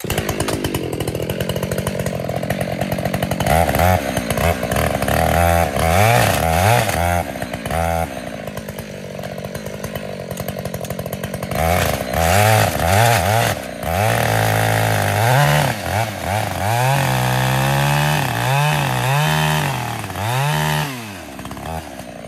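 A chainsaw felling a beech tree, with loud, near bursts of high-revving cutting that alternate with lower idling stretches, the engine bogging and rising repeatedly as it chews through the trunk.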